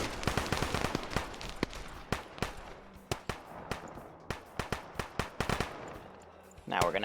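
A light machine gun firing in the Arma 3 video game, sharp bursts and scattered single shots crackling over several seconds at varying distances, with a voice talking over the gunfire.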